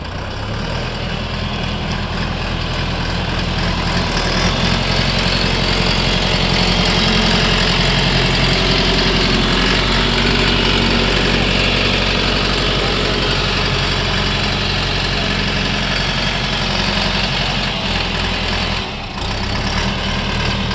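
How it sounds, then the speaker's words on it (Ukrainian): Shifeng 404 four-cylinder four-wheel-drive tractor engine idling loudly and close, a steady low diesel rumble with a fine knock that barely varies for twenty seconds, with no talking. "Відвантажимо тракторця Шофен 404. Даний трактор де 4-циліндровий, повний привід"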